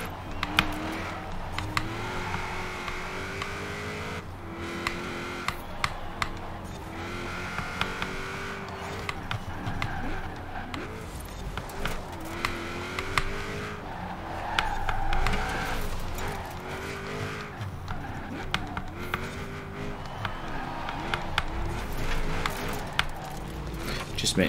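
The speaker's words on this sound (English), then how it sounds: "I love the way this engine sounds." A Honda NSX in Forza Horizon 4 revs up and down through gear changes with occasional tire squeal, its engine rising and falling repeatedly beneath someone talking over most of the run.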